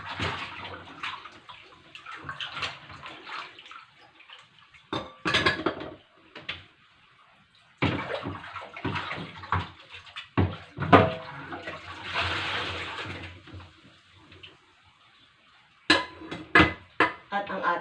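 Casserole pot, frying pan and dishes being washed and rinsed under water, with intermittent splashing, running-water bursts and clinks of cookware coming in uneven spurts separated by short pauses, close by.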